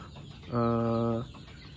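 Chickens in a coop on a poultry farm, one drawn-out cluck of under a second, close and clear above faint background noise.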